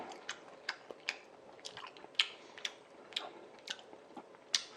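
Close, quiet chewing and biting of pan-fried zucchini jeon, a Korean vegetable pancake, with soft crunchy and squishy bites in an irregular rhythm and no talking.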